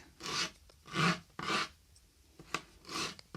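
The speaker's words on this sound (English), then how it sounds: "I love this sandpaper so much" Sandpaper works a wooden part in a short series of rasping strokes, about five rough rubbing passes with brief gaps and a few small taps, close and quiet, no talking.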